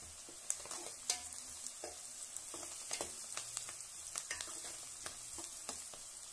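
Curry leaves and turmeric frying in a pan for a home-style curry, a quiet steady sizzle broken by scattered small pops and crackles, with occasional scrapes of stirring, close and fairly faint.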